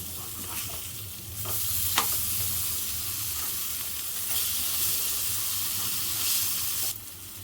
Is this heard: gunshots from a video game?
no